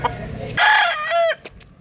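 A white-legged gamecock crows once, close and loud, a drawn-out strained call lasting about a second over faint background noise.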